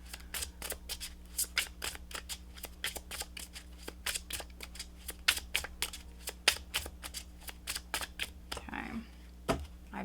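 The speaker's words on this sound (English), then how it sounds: "I've been shuffling these cards for quite some time" Oracle cards are shuffled in quick, irregular riffling snaps, each crisp flick close and distinct over a low steady hum, with a brief soft voice near the end.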